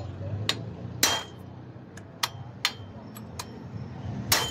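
A hammer pounds on parts while a Whirlpool automatic washing machine gearbox is being repaired. About eight sharp, close metallic strikes land at uneven intervals over a low background rumble.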